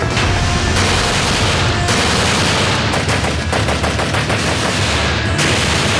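Heavy gunfire from enemy fighters in a battle, loud and close, with dense rapid bursts of automatic fire and scattered shots crackling continuously for several seconds, no voices.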